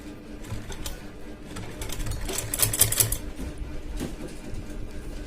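A sewing machine stitches a folded strip on a blouse sleeve, a close, continuous rapid clatter that swells slightly in the middle.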